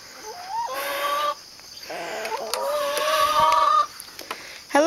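Backyard laying hens cluck and squawk in a noisy flock, their calls rising and overlapping in bursts close by with no talk.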